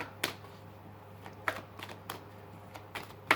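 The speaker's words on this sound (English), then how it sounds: "the deck drops, so just going to give it another shuffle" A few sharp card riffles and snaps, close and fairly quiet, separated by short pauses with a low steady hum underneath.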